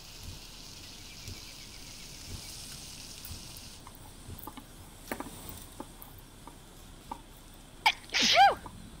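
A single loud, close sneeze bursts out near the end, after a stretch of quiet indoor room tone with a few faint knocks and clicks.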